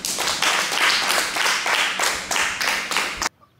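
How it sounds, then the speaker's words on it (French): Audience at a healthcare network's tenth-anniversary ceremony applauding in a steady burst of hand claps, close and full, lasting about three seconds before cutting off abruptly to near silence. "Je vous prie très respectueusement d'applaudir ces 2 charmantes dames."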